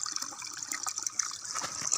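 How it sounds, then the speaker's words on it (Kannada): Hot spring water pours steadily from a pipe, a continuous close splashing and trickling rush with small surges and no speech. "ಬಿಸಿ ನೀರು ಇಲ್ಲಿಂದ ಬರ್ತಾ ಇದೆ ನೋಡಿ"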